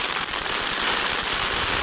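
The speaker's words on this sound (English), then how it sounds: "the rain's coming hard" Heavy rain pours down at a campsite beside a campfire, a dense, steady hiss of drops close by with scattered crackling patter throughout, no voices.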